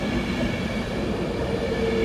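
A Virgin Trains passenger train at Stoke-on-Trent station gives a steady, loud rumble of rolling rail noise with a constant hum throughout and no voices.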